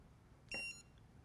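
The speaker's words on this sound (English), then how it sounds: "It beeps at you several times when it's on." A Garmin PRO 550 dog training collar gives one short, high electronic beep, faint and close, with a quiet pause before and after it.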